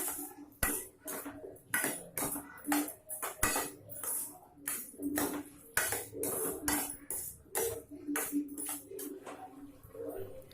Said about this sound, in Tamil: இப்போ நம்ம காயெல்லாம் இதில் சேர்த்துடலாம். சேர்த்து நல்லா வதக்கிடலாம்.